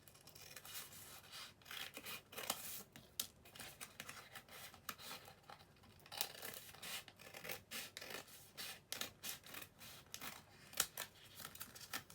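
Scissors cut through ridged paper for a handmade Mother's Day card, giving faint, close snipping and rasping scrapes in an irregular series of short strokes with no talk.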